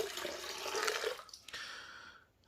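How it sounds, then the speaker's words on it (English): Water sloshes and pours out of a gold pan while processing paydirt, a rushing splash lasting about a second, then a brief trickle and drips fading to quiet. "You don't dump them out when you're emptying your water out."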